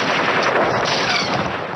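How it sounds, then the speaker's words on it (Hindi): A light machine gun fires a continuous dense burst, loud and close, its rapid rattle filling the whole stretch without a break. "इस लाइट मशीन गन से निकली गोलियां"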